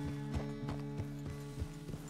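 A horse's hooves clip-clop at a steady walking pace in the Red Dead Redemption 2 video game, evenly spaced hoofbeats over a low sustained musical drone.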